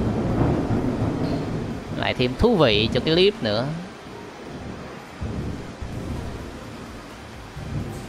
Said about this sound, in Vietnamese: mưa bên ngoài anh em có thêm tiếng mưa xì xào hoặc là tiếng sấm chớp